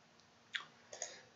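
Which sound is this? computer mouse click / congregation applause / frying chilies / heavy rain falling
computer mouse click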